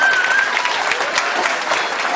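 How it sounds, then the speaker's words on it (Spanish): Wedding guests applaud steadily for the honored godparents before their waltz, a dense, sustained round of clapping filling the room, with no voices standing out. "Por favor, fuerte el aplauso para ellos"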